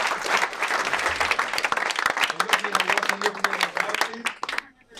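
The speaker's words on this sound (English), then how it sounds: "Just give him a round of applause." Hackathon pitch audience breaks into loud, dense clapping, with voices speaking over it before the applause tapers off abruptly at the end.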